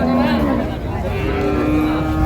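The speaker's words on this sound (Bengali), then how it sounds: "গাভী বাছুর" A cow with her calf at a rural cattle market in Dinajpur lows in a drawn-out, gliding call, heard close over the steady murmur and chatter of the crowd.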